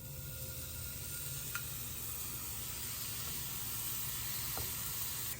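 Pear slices sizzling gently in olive oil in a pan, a steady, even hiss that runs throughout with a couple of faint clinks. The sound is close and fairly quiet.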